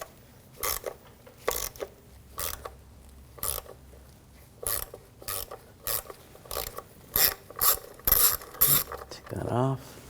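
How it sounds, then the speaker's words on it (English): A ratchet with a 10mm socket turns nuts off a 2006-2009 Audi S4 while replacing the oil level sensor, giving repeated short rasping clicks in uneven bursts, close and clear, ending in a quicker spin. "I'm going to take these nuts off, use a 10mm socket."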